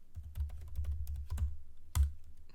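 Typing on a computer keyboard, close and fairly quiet, in a quick run of key clicks with a slightly louder keystroke near the end.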